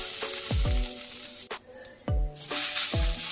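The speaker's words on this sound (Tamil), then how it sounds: "இப்போ அதே பேன்ல தேங்காய் வறுத்து எடுத்துக்கலாம்." Grated coconut roasts in a pan with a constant broadband hiss close up, broken by several quick scraping strokes and a brief quieter gap.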